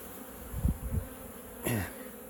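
Honeybees around a hive during beetle removal, with a low buzzing hum that swells in a few short bursts and one brighter pass near the end.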